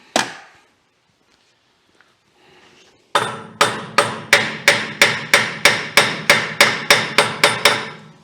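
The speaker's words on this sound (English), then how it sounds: "get a solid hammer" A solid hammer strikes a stuck part on a Waterloo Boy 5HP engine, about fourteen loud, evenly spaced metallic blows close by after a brief quiet scrape and a single earlier knock.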